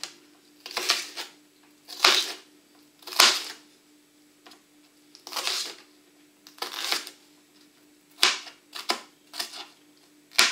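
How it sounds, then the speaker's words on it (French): Green and red bell peppers being chopped into small pieces with a knife on a board: irregular clusters of sharp, close chops separated by short pauses, no speech. "on vient les découper en petits morceaux"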